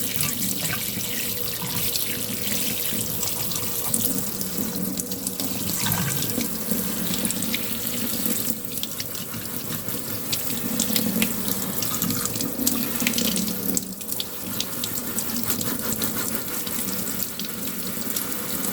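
Fermented heirloom tomato seeds get rinsed under running tap water, a steady splashing flow into a sink that swells and eases a little over the whole stretch, close and without speech.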